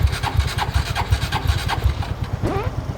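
A Honda Wave 110i motorcycle engine runs close by with a fast, pulsing putter, rising briefly in pitch near the end as the throttle is blipped.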